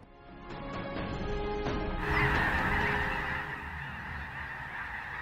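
A massive flock of snow geese in Sacramento, California honks continuously, a dense overlapping chorus of calls that swells and stays loud and close throughout.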